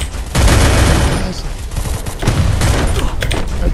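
Loud bursts of rapid video game gunfire during a tournament match crackle close and dense, repeating in quick volleys while people talk over the shooting.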